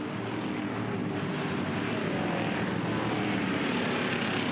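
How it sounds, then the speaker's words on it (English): A full field of V8 Ute race cars at Barbagallo Raceway, a sustained loud engine roar as the pack passes by, with no voices. "Great sound that the Utes make, full field."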